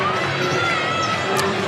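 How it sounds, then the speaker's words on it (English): A large crowd fills a high school gym before a varsity boys basketball game between Catholic Central and South Christian, a steady dense murmur of many voices with a faint squeak. "Huge crowd on hand tonight, still filing in as we get set for this one"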